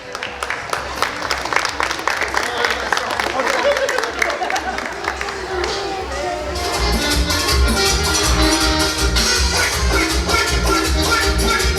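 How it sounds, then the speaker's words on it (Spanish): Wedding guests in Acapulco applaud the newlyweds, a dense, steady wash of clapping that swells louder partway through, with music and voices underneath. "Fuerte los aplausos para ellos"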